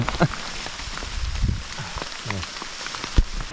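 Steady rain patters on open land during a hike, a soft, even hiss with occasional louder drops and rustles close by, faint voices now and then underneath.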